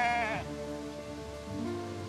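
Sheep bleating on Borkum while a herding dog gathers the flock, a short bleat at the start followed by ongoing low flock calls over steady rain-like outdoor noise.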